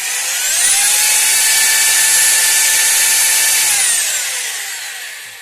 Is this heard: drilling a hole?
yes